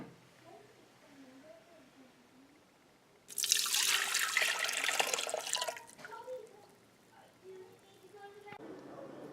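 Heated milk and water pour into a bread maker canister in a steady splashing stream lasting a few seconds, surrounded by someone talking before and after.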